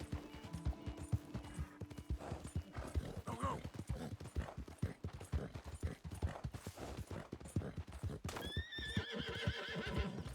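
Hoofbeats clip-clop in a fast galloping rhythm while a horse neighs and whinnies loudly near the end, from a ridden horse in the Western video game Red Dead Redemption 2.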